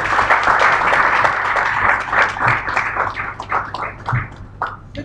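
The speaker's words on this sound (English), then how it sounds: "We can clap better." A live audience at a church gathering breaks into sustained applause, dense clapping from many hands that gradually thins and becomes more scattered toward the end, with no talking over it.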